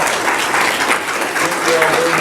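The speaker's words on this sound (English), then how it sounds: "can I have another round of applause for our terrific panel?" An audience at a school voucher forum claps steadily for a panel, with a voice speaking over the applause.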